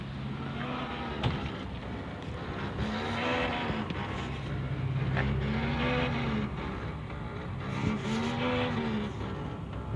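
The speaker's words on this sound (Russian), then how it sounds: "Это у нас вот эта фара поет песню" Buzzing and crackling from a faulty headlight on a GAZelle van with the lights switched on: a steady low electrical drone with slowly rising and falling whines over broadband engine-like noise, close and continuous.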